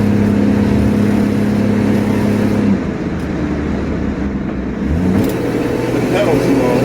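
A car with a newly fitted carburetor cruises at about 55 mph, its engine drone and road noise steady and loud throughout, easing briefly midway before picking back up, with someone talking over it.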